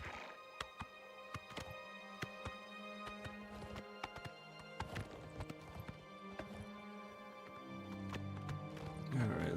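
Hooves of a chestnut horse in the video game Oblivion Remastered clop in a steady, close walking rhythm over held musical tones, with a brief whinny-like swell and rising rumble at the end.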